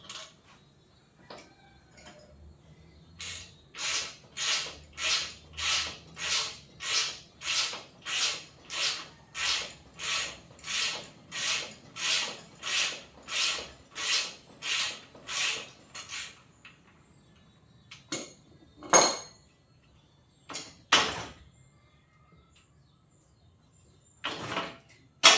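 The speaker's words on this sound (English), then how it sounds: "Just slacken the spindle and take the front wheel out." A ratchet spanner clicks in a long steady run of about twenty even strokes while the front wheel spindle of a Kawasaki HD3 motorcycle is slackened, followed by a few scattered metallic clunks as the wheel comes out.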